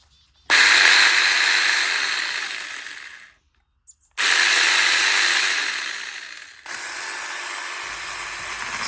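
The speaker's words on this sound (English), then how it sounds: "when I turned it on and guided it through some of the branches around my yard, it cut surprisingly clean and fast" A small cordless chainsaw cutting yard tree branches whirs up in three bursts, two long buzzing runs separated by brief silence and a third starting near the end, close and loud.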